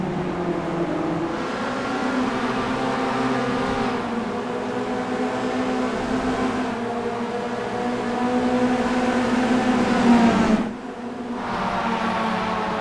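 Race cars roar around Silverstone in the sim racing game Simworx Roadster Rumble, with a steady, loud, near engine drone whose pitch climbs and shifts as the cars accelerate. A brief dip in level follows an abrupt lift off the throttle.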